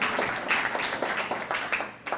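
Applause from an audience at a county chamber of commerce legislative breakfast, a dense patter of many hands clapping steadily throughout, moderately loud and close.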